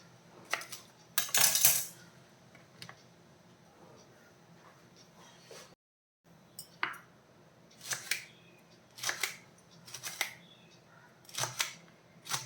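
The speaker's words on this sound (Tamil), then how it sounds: "அப்போ அந்த வெண்டைக்காய் ரெசிபி பண்ணுறதுக்காக நான் ஒரு பத்து வெண்டைக்காய் எடுத்துருக்கிறேன் இதை வந்து நாம் கட் பண்ணிடலாம்" Okra (ladies finger) is chopped into small pieces on a board, a series of crisp knife taps and chops in irregular bursts, close up, with a short silent gap and faint background noise.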